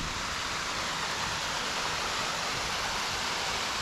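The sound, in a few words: waterfall flowing, partly frozen over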